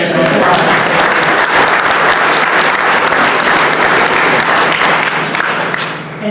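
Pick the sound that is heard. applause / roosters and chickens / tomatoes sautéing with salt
applause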